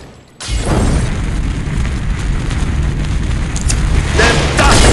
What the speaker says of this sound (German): Ich werfe die Granate!